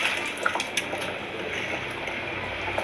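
Water bubbling at a steady boil in a pot while chicken biryani is being made, a continuous soft hiss and gurgle with a few small pops and no voices.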